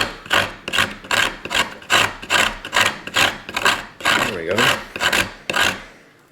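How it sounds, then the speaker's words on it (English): Resin-impregnated pine wood being grated on a Smith's Tinder Maker fire-starting kit makes about a dozen rhythmic rasping scrapes, close and fairly loud, with someone talking softly between strokes. "So it's definitely grating, and because this is a resin impregnated wood"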